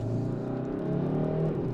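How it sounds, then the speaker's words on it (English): A 2022 Kia K5 GT's turbocharged four-cylinder engine pulls under acceleration from inside the car, giving a steady, smooth hum that climbs slightly in pitch toward the end. "Sounds pretty good for a turbocharged 4-cylinder."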